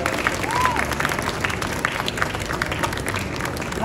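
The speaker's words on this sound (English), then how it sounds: "let's give a round of applause to Melanie for the artist." Audience applause at a Walt Disney Animation Studios Ink & Paint panel at the D23 Expo 2022, a steady wash of clapping from a large crowd with some background voices mixed in.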